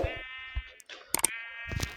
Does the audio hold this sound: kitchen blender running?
no